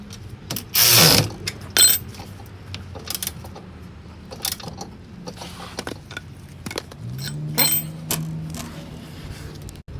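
A ratchet tightens the rear shock absorber bolt on a 2011 Toyota Yaris, with close, clicking ratchet strokes in short bursts, metallic clanks, and a brief whine.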